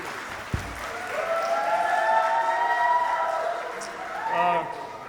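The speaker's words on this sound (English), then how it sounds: "Can I get a round of applause for Puneet" A wedding reception audience claps steadily in a sustained round of applause, with a person's voice rising over it near the end.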